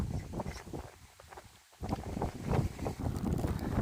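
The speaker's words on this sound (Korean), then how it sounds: "여기도 역시 지금 어, 이렇게 바람이 세게 불고 있습니다만은" Strong wind blowing across a farm field planted with kabocha squash, gusty buffeting on the microphone that rises and falls, drops briefly near the middle, then surges back harder.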